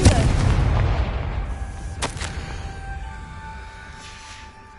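A booming blast from the Confringo fire spell in the Hogwarts Legacy video game hits at once, loud and rumbling, then fades slowly with a second sharp crack midway through a long decaying tail.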